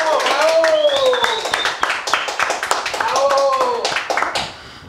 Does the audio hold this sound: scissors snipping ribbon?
no